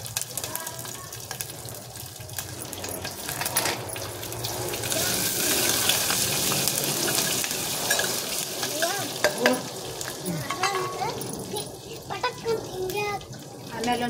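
Curry leaves and green chillies sizzle and crackle in a hot pan as they are stirred, a steady frying hiss with scraping, under occasional background voices.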